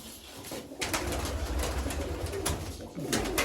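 A flock of pigeons cooing close by in a new mud-built loft, low murmuring calls overlapping continuously with a few soft rustles; no voices.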